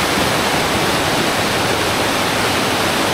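Water rushing and trickling down rocks in the outdoors in Mindoro, a steady broadband wash that stays even and loud throughout with no pauses, close by and without voices.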